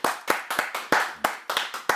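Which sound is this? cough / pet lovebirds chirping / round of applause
round of applause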